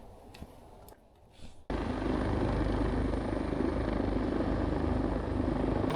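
A rescue helicopter descends toward a helipad beside a mountain trail on Cheonggyesan. After a quiet start, the loud, close rotor roar cuts in abruptly and holds steady.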